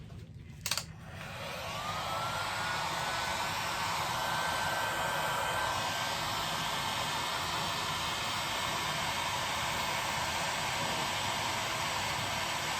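A hair dryer or heat gun blows steadily to heat and spread paint. After a brief click near the start, it holds a constant, fairly loud airy roar up close for the rest of the clip, with no talking.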